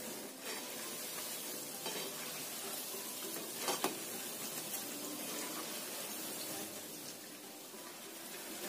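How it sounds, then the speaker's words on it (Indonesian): A homemade snack deep-frying in oil in a pan over medium-low heat gives a soft, steady crackling sizzle, faint and continuous with a few small pops, and no talk. "Kita goreng sampai kering ya. Jangan gunakan api besar, api sedang cenderung kecil aja"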